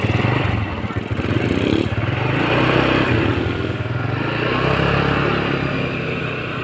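A small motorcycle ridden by a beginner during a first practice run outdoors drones and putters steadily nearby, its engine rising and falling gently over several seconds.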